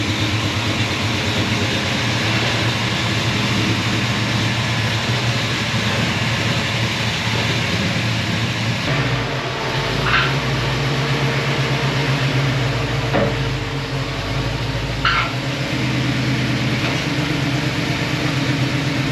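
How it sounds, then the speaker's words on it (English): Car on a road test drive with a noisy fuel pump, a steady loud engine and road drone running throughout, with a deeper rumble shift midway and occasional brief clicks or squeaks, no talking. "So you're probably going to hear my annoying fuel pump too."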